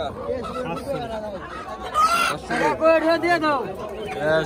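A rooster calls repeatedly among ducks and poultry for sale at a busy riverside morning fish market in Dohar, Dhaka, its loud close cries mixed with people chattering nearby.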